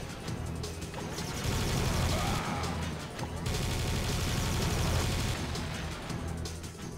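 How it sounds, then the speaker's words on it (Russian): Serious Sam 2 combat on Xbox 360: sustained minigun fire mixed with sniper rifle shots and explosions, a loud continuous barrage with brief dips, no talk. "этих летучек мы собьем с помощью снайперской винтовки. Ну и добьем миниганом."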